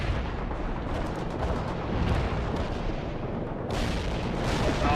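Artillery barrage in the real-time strategy game World in Conflict, a dense continuous rumble of booming impacts and blasts rolling on for seconds with no pause, louder near the end.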